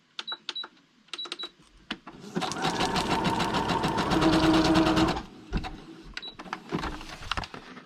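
A sewing machine zigzag stitching on paper, beginning with short isolated bursts, then a sustained rapid mechanical clatter of the needle for about three seconds, followed by a few more brief stops and starts, close and clear, with occasional faint background speech.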